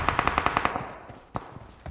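Rapid automatic AK rifle fire in a video game: a fast burst of about eight evenly spaced shots, then a lone louder shot and fainter ones trailing off.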